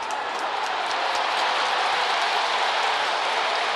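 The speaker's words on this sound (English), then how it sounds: "Crowd tells you what they think" At an Orioles versus Rays baseball game, a large stadium crowd sends up a dense, continuous roar. It stays loud and even throughout, with a faint hint of clapping mixed in.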